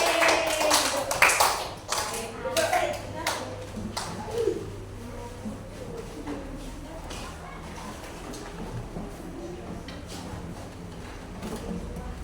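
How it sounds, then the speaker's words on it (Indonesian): A class of schoolchildren claps for five children who came to the front, a burst of scattered, fairly close hand claps early on that thins into faint taps and background room noise. "tepuk tangan buat 5 anak yang maju"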